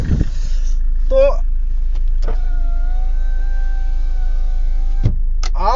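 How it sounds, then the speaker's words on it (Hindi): A Mahindra Scorpio reversing: a steady low engine drone with a sustained whining tone, bracketed by brief squeaks and clicks, close and continuous. "हाँ बैक कर रहा हूँ मैं अभी गाड़ी को"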